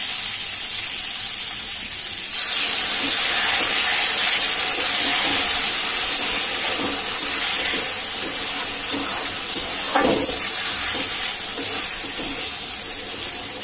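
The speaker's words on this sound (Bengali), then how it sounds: "এবার আমি দিয়ে দেবো জল।" Hot water poured into a pan of spiced potatoes frying for a fish curry bursts into a loud, close sizzling hiss after about two seconds. The hiss then settles into a steady steaming bubble that slowly fades.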